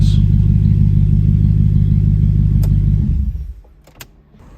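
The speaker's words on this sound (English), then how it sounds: "So why does pressing the clutch in increase the revs?" A car engine in neutral holds a loud, steady high idle with the clutch pedal floored, then the revs drop away near the end, leaving a quieter tail with a few small clicks and knocks.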